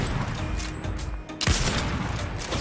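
Sniper fire in the battle royale game Fortnite: a single sharp, loud crack lands midway, standing out against busy in-game noise.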